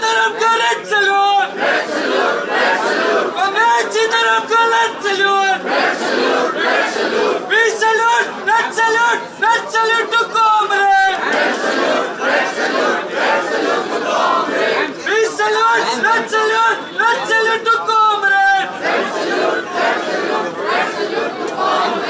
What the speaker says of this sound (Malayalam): ആയിരങ്ങൾ മുദ്രാവാക്യം മുഴക്കുന്ന ആ ശബ്ദമുഖരിതമായ ഒരു അന്തരീക്ഷം